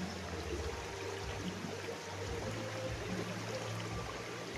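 River water flowing past a bathing spot, a steady, even rush and trickle with a low rumble underneath, continuous and fairly close, with no voices.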